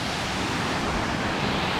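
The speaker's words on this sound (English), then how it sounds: "It's a really spectacular waterfall." Large waterfall near Stowe, Vermont, with a tall drop that cascades and plummets, giving a steady, dense, close roar of rushing water that stays constant throughout.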